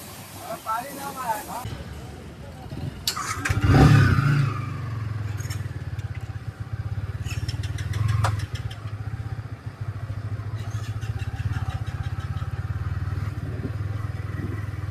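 Motorcycle engine starting and then settling into a steady low idle before a ride, with a louder revving surge early on and clatter and scraping handling noises around it; people talk over it.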